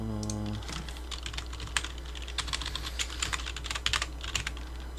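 Fingers type steadily on a computer keyboard, a quiet run of close, irregular key clicks with a few louder taps, and a brief low electronic tone at the very start.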